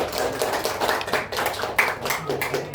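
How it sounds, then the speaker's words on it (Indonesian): A classroom group applauds after a student group presentation, scattered uneven clapping from a modest number of hands, close and fairly loud, without talk. "Beri tepuk tangan ya."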